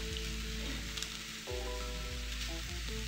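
Oil sizzling in a pan while cooking beef biryani, a steady bright crackling hiss with low rumbling hum beneath and a few soft clicks.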